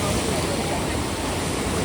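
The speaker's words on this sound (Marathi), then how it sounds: "तर अशी धरून ठेवावं लागते. लाटा येतात ना त्याच्यामुळे." Sea waves wash against a boat during a coastal Konkan beach trip, a steady loud rushing of water and spray with wind noise, continuous and broadband throughout.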